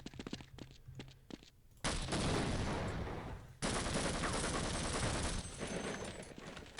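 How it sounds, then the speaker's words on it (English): Gunfire from the video game Half-Life comes in a few single sharp shots. Then come two long bursts of dense, loud automatic fire, and no one speaks. "With all that gunfire."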